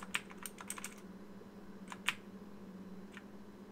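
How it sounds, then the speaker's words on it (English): Rapid keyboard typing in bursts of sharp clicks, clustered near the start and around the two-second mark, heard over a steady low hum while playing Need for Speed: High Stakes on PC. "I am using a keyboard for this as well, so you'll hear me spamming the keyboard a lot"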